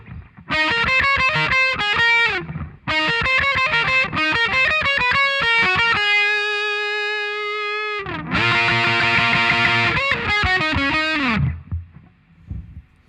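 Distorted electric guitar playing the bridge riff of a song: choppy staccato note runs, a long sustained held note, then a busy fast lick that rings out and stops, loud and close with no talking.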